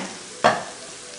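An egg hits a pan of frying curry and sets off a sudden burst of sizzling. It flares loud for a moment, then settles back into a softer, steady frying hiss.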